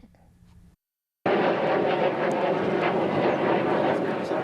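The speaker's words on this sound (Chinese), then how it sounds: "IDF 建国战机放火焰弹，引擎声轰轰叫" After a brief quiet gap, a loud, steady jet engine roar bursts in and holds strong, broad and rushing, close by.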